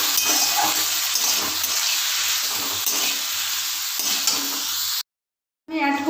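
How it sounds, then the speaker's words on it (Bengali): Water poured into a pan of frying spice paste for a Bengali thorer dalna, giving a loud hissing sizzle that runs steadily for several seconds before cutting off, followed by a brief clatter. "দিয়ে ভালো করে আমি এবার একটু জল দিয়ে মশলাটা কষাবো যাতে পুড়ে না যায়।"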